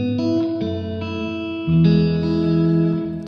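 An electric guitar runs through a Pulsar Primavera spring reverb pedal set to a darker tone, playing sustained chords with a distorted, effected sound, each new strum ringing out into a reverb tail.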